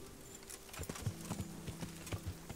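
Horse hooves clip-clopping in the medieval video game Kingdom Come Deliverance, a loose run of hoof strikes at a walking pace, fairly close, with a faint steady background hum.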